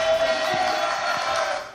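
Studio audience applause on a French television show fills the space as a dense, steady wash of clapping, loud and continuous for the whole moment and tailing off slightly at the end.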